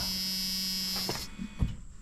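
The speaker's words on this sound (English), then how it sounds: "Door buzzer's annoying." A steady electronic door warning buzzer in a junkyard Chevrolet S10 pickup holds for over a second, then cuts off, leaving a couple of faint knocks and low thumps.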